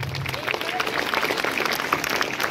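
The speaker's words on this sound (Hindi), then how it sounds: "पहले उसके लिए एक जबरदस्त ताली हो जाए।" An audience applauds a children's dance drama at a school event, with a steady spatter of many hands clapping in a hall and faint crowd murmur underneath.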